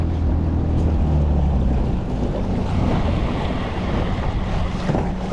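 A tiny kayak fitted with an oversized outboard motor runs across open water, with a steady close engine drone blended with water wash, splashing and wind buffeting the microphone throughout.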